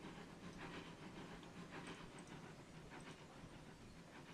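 Locomotive 3254 running in the Trainz railway simulation game, a faint, steady rumble with a soft hiss and a few light clicks, distant and continuous with no voices.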